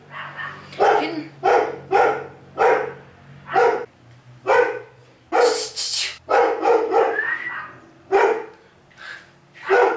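A neighbour's dog barks in a long run of sharp, loud barks and yips, roughly a dozen bursts in uneven clusters with brief pauses between them.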